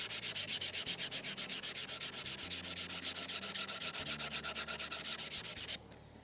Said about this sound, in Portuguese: você tira com a lixa.